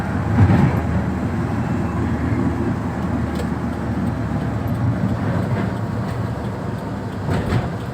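A car pulling away in fifth gear at about 30 km/h, its low engine drone and road roar steady and close from inside the cabin, with a few faint clicks and knocks along the way.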